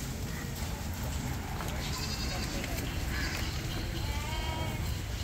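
Goats bleating at a goat farm in Bhiwandi, with several calls rising over loud steady farmyard noise and people talking throughout.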